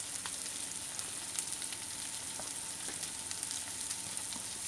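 Steady, close sizzling of chopped onions frying in a hot pan for dry fish kulambu, with faint crackles and occasional stirring, no voices.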